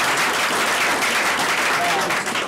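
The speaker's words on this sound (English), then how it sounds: "If you agree to the minute, clap your hand." An audience at a fair trade meeting breaks into steady applause, a dense wash of clapping that continues for the full couple of seconds.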